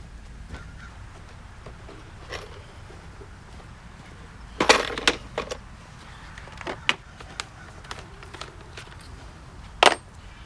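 Screws being handled, 3.5 inch star head screws for building a chicken watering system, giving scattered small metallic clicks and clinks, with a brief rattle near the middle and a sharp tick near the end, over quiet background.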